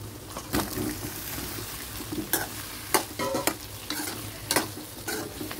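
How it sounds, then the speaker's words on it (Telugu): Bottle gourd pieces stirred into fried onions in a hot pan, with scraping spoon strokes and soft sizzling that come in irregular bursts close up, and no talking. "సొరకాయ కూడా వేసేసి బాగా కలుపుకున్నాము"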